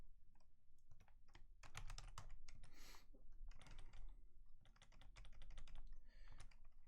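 Keys clatter on a computer keyboard while a name is entered into an online delivery-address form, quick bursts of close, crisp clicks separated by short pauses.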